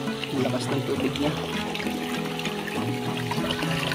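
Strong flow of mountain spring water rushing through a farm pipe, a steady, close, full gushing wash that carries on without a break and with no one speaking.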